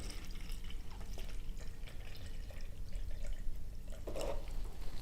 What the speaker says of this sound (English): using distilled water, measure out 50 ounces to begin with